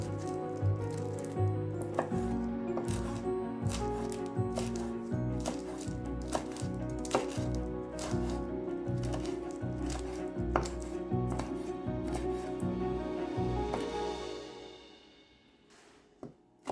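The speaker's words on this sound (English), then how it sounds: "Finely chop fresh parsley" A knife chops fresh parsley on a board in quick, steady, evenly spaced strokes, close and crisp, until the chopping stops near the end.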